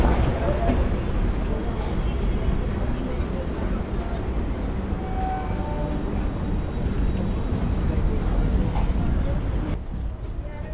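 A special Eastern Railway train from Kolkata to Tarakeswar, heard from inside as a continuous dense rumble and rattle that stays even throughout.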